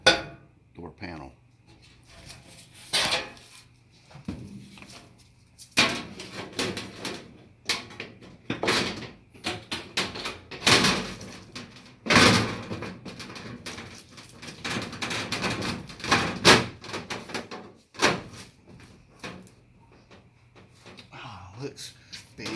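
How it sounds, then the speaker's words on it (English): A car door panel is pressed and snapped into place on a door, giving a series of close, sharp clicks, knocks and thumps at irregular intervals, with someone talking between them. "Let's put the door on."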